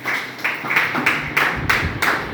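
Round of applause for a speaker at a statewide teachers' workshop in Akwa Ibom, a small group clapping in a brisk, even rhythm for a couple of seconds, fairly close and with no talk over it.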